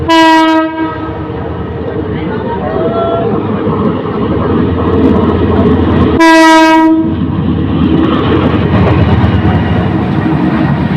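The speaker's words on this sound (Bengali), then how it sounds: "পিছনের ট্রেন যেটি এটির অনেক পরে যাওয়ার কথা থাকলেও এটি এখন তিতাসের আগে চলে যাচ্ছে" A passenger train rumbles steadily past close by on the Bhairab–Tongi line in Bangladesh, with its horn blaring loudly at the start and again partway through.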